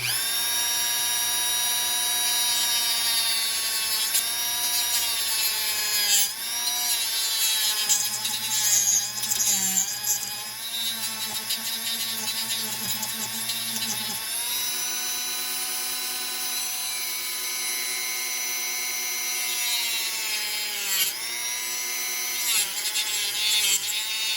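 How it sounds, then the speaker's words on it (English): A power tool cuts through the plastic armor on the torso of a SAND Viper action figure. Its steady, loud motor whine shifts pitch as the blade bites and eases, running continuously with no talking. "I'll make a cut here, which will separate the armor from the rest of the torso"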